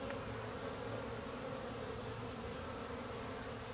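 Honey bees swarm around a hive entrance on a warm late-March day, a constant, even buzz of many wings, fairly faint, with no voices.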